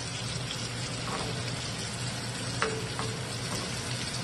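Salmon fries in a pan with a constant close sizzle, broken by a few sharp pops and light clicks, and no one talking.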